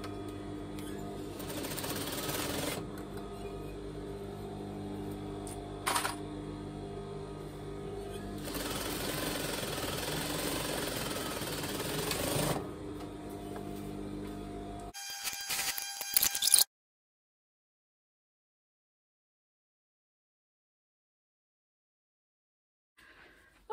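A sewing machine stitches the seams of net petticoat layers in long steady runs with a couple of short pauses, the motor buzzing close and even before stopping and leaving near silence, with talk faintly underneath.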